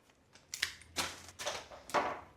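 Scissors cutting through bouquet flower stems at an angle after the ribbon and rubber band are removed, giving three or four close, crisp snips in quick succession.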